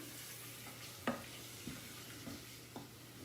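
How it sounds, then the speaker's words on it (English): Chili made with ground beef simmering in a pot, a faint low bubbling hiss with a few soft spoon clinks and stirring knocks, quiet and close with no voices. "Now I want to cook that and bring it up to a simmer, just to get those flavors to marry in with the beef."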